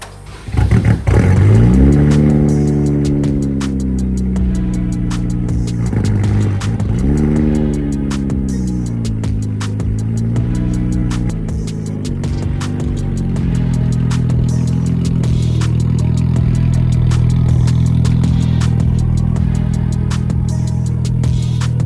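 Nissan Z sports car with an aftermarket exhaust and transmission mount pulling away on a test drive, engine revving up through several rising pulls with gear changes between, then settling into a loud, steady cruising drone heard from inside the cabin.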